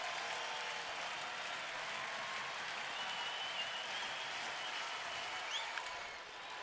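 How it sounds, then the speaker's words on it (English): A Friday night baseball crowd at a Cleveland stadium cheers and applauds loudly and continuously as the home team takes the lead, a dense sustained roar of clapping and voices. "Friday night crowd frothing at the mouth here."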